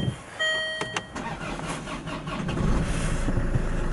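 A Land Rover Freelander 2 Sport diesel with 102,000 miles sounds a few dashboard chimes, then the engine cranks and catches, settling into a steady, close diesel idle, with no voices.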